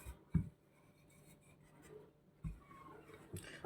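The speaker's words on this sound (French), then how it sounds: "On étale bien la pâte pour faire les cornes de gazelle" A rolling pin spreading cornes de gazelle dough thin on a floured work surface, making soft rubbing and scraping strokes with a couple of dull knocks, close and quiet, no talking.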